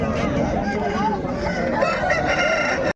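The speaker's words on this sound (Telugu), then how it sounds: "చిలకముగ్గు జాతికి సంబంధించిన పుంజు" A Chilakamuggu breed rooster crows loudly and close by at a poultry market, with other fowl clucking and calling in the busy background, cutting off abruptly at the end.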